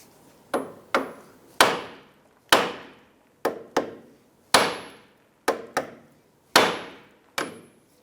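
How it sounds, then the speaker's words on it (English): Hammer striking the steering knuckle of a 2001-2007 Ford Escape to release the outer tie rod end, about a dozen sharp metallic blows at uneven intervals, loud and close with short ringing decays. "Now I'm going to use a hammer and I'm going to strike the knuckle right here to go ahead and release the outer tie rod end"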